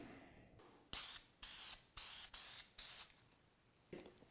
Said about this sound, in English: I'm gonna put some lacquer on here and we'll see how these change.